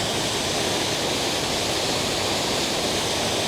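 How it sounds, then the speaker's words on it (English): A waterfall in Scotland running powerfully after rain, a steady, dense roar of rushing water that fills the whole moment without a break, loud and close with no voices. "I've never seen the waterfalls running this powerfully"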